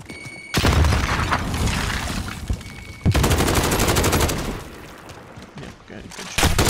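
Heavy bursts of Call of Duty gunfire crackle loudly in two long sustained volleys, with booming impacts and a closing burst, dense and close.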